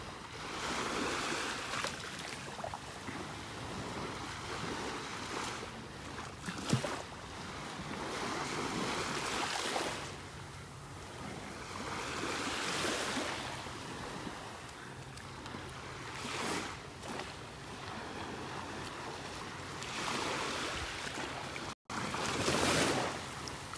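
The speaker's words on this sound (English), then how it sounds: "Peaceful listening to the waves." Gulf waves on the beach at Delnor-Wiggins in North Naples, Florida roll in and wash out in slow repeating surges, mixed with steady wind buffeting the microphone. No one speaks.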